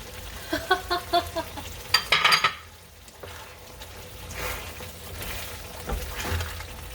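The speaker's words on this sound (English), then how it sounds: "So I'm just gonna go ahead and add the beans now, the kidney beans." Kidney beans being stirred into a pot of cooking chili, Wendy's-style: a run of quick metallic spoon clinks against the pot, then soft wet stirring and a low simmering sizzle.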